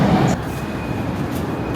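Shanghai metro train pulling into a station, a steady low rumble of rail noise filling the platform after a brief louder burst at the start, with no clear voices.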